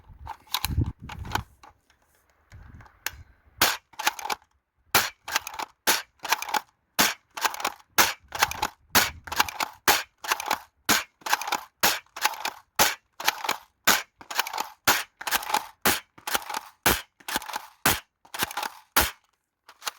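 A CEDA S foam dart blaster fires a long series of sharp, snappy shots, first a few irregular ones, then a fast steady rhythm of close, loud cracks with near silence between them.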